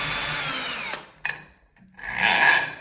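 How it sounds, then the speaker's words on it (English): A power drill removing long screws from a shower fitting whirs steadily, then stops with a clunk, followed by a pause and another burst of high-pitched spinning. "This is actually a drill to remove two screws because it's much faster"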